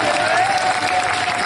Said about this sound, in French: on applaudit à Mathieu là.